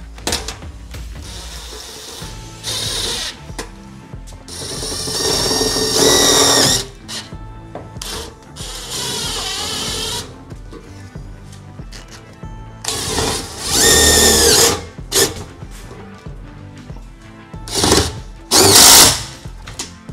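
A power drill drives screws into a DuraTherm ceiling liner inside a RAM ProMaster van, with several loud whirring bursts of a few seconds each and short gaps between them, heard close up.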